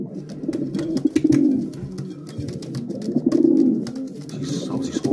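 Racing pigeon hens coo in low, rolling murmurs close by, overlapping in soft repeated waves with faint clicks and rustling of birds moving around.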